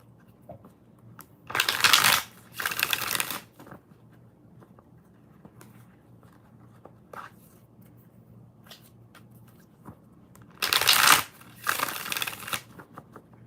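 A tarot deck is shuffled in several bursts of rapid, papery riffling, two close together early on and two more near the end, with quiet pauses and faint handling noises between them.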